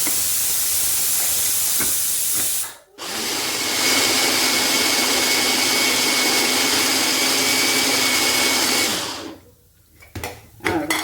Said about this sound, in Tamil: வெங்காயம் நிறையா இருக்கா இந்த மிஷினில் அரைச்சிக்கோ